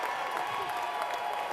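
A basketball arena crowd on its feet cheering and clapping, a steady, full wash of applause and voices throughout the short moment.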